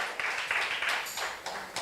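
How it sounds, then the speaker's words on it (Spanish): A church congregation applauding during a Spanish-language service, a short burst of mid-distance clapping lasting under two seconds, with a voice faintly audible beneath. "Dele un fuerte aplauso al Señor."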